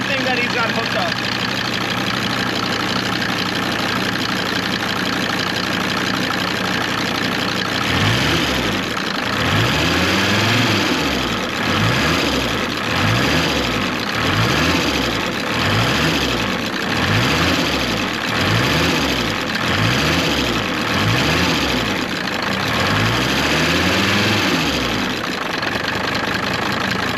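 A long-abandoned Mercedes 190 turbo diesel engine idles with a steady, close clatter, then is revved repeatedly by a string linkage, rising and falling in even surges over the idle.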